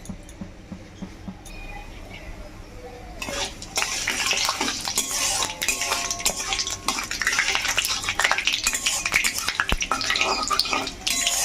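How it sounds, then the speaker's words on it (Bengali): One bay leaf, a dried red chilli, three cardamom pods and a little cumin hit hot oil for a chicken curry: a few quiet seconds, then a sudden loud, steady sizzle and crackle with light stirring clinks. "এরপরে ফোড়নে দেবো একটা তেজপাতা, একটা শুকনো লঙ্কা, আর এলাচ দিয়ে দিচ্ছি 3টে"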